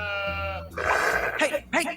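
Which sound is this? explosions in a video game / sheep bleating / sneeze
sheep bleating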